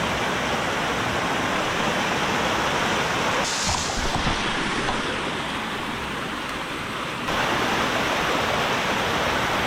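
Titi Waterfall pours steadily in a broad, loud rush of falling water, continuous throughout with a brief shift in tone midway, and no voices.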